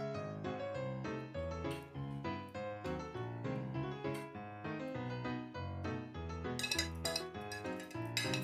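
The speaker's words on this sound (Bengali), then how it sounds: "এবারে ম্যারিনেট করা মাছটাকে একটা স্টিলের টিফিন কৌটার মধ্যে ঢেলে দেব।" Marinated fish poured into a steel tiffin box, with close clinks and scrapes of metal utensils against the steel container over a continuous tonal backdrop, no speech.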